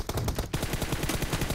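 Rapid automatic gunfire from PUBG Mobile on the new Erangel map, a dense burst of close, loud shots in quick rhythm broken by a brief gap near the middle, with no talking.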